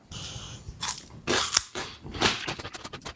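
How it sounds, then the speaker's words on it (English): Crisp fresh bell pepper, very firm and just sliced, bitten and chewed up close, with a sharp crunch followed by several wet crunching chews, loud and with no talking. "Definitely gonna be a crunchy pepper."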